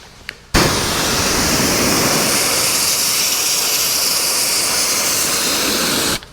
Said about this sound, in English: I'm gonna go across it with the nozzle like that and clean all this off.